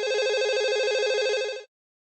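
Telephone ringing alone, a single electronic ringtone burst lasting under two seconds with a fast warbling pulse, moderately loud, then cutting off into silence.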